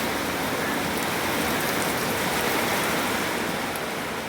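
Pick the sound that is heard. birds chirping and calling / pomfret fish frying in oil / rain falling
rain falling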